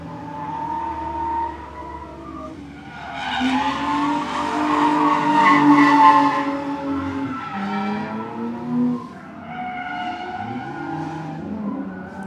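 Cars drifting in tandem at a live drift event in Mexico, with loud sustained tire squeal and skidding over engine roar that swells in the middle and trails off, then rises again.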